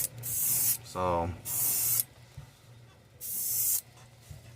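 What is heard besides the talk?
airbrush spraying green paint on a handmade fishing bait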